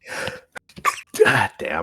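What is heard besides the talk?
sneeze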